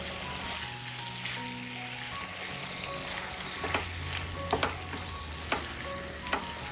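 Chopped vegetables sizzle steadily in a hot pan as they are stirred together, a continuous crackling fry broken by a few sharper scrapes and clacks of the spoon, with no voices.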